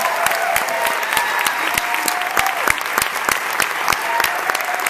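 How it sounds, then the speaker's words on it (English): Audience applause welcoming Sheila Nevins at an Athena Film Festival event, a dense, steady clapping from a sizable crowd that fills the whole stretch at an even loudness, with a few sharper individual claps standing out and faint voices underneath. "give her a big round of applause"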